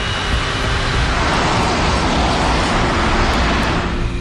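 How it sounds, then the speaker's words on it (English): Airliner jet engines throttling up on a runway for takeoff, a loud, steady broadband roar filling the scene without pause and with no voices. "The flight data recorder reveals that he opens the throttle."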